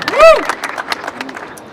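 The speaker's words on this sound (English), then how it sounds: "can we get another round of applause for our amazing electeds" Crowd applause and cheering at a union rally for Kickstarter workers, a short burst of clapping with a high whistle-like tone rising and falling near the start.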